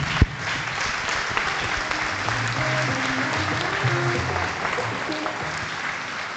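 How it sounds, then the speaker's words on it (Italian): Applause for Simona fills the hall at a Sardinian cycling awards celebration, a steady, dense round of clapping from the crowd that holds at an even level throughout. "vorrei ricordare con un grosso applauso chi?"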